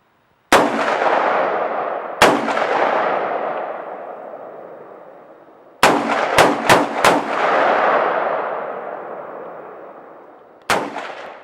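A custom AR-15 pistol fired outdoors: loud, close single shots with long rolling echoes, starting with two spaced reports, then a quick string of four rapid shots, and one final shot after a pause.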